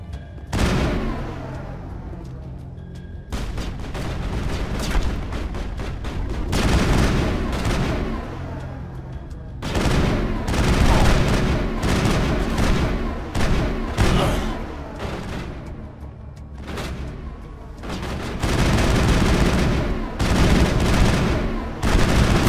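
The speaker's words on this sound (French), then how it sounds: "Ça prend beaucoup trop de balles dans ce jeu-là pour tuer quelqu'un" Sustained video-game gunfire in Mass Effect, dense bursts of automatic shots and heavy booms in long volleys, loud and nearly continuous with only brief gaps.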